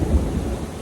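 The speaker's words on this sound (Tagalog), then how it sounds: "Ang lakas ng kulog, ano mga boss." Loud thunder during a rainstorm: a brief, deep rumble heard close and heavy, with no voices.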